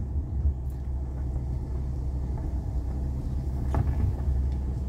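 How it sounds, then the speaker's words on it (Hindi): A car drives along a farm road between ripe wheat fields, a steady low engine rumble and road noise holding throughout at moderate loudness with no voices. "एक गाड़ी और आ रही है"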